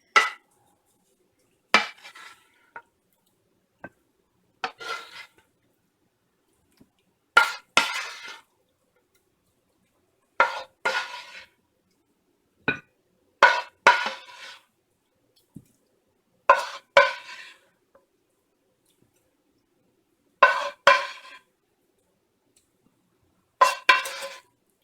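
Dishes and cutlery clink in short, sparse bursts while a meal of turkey breast and steamed vegetables is plated, each cluster of close, bright taps separated by silence.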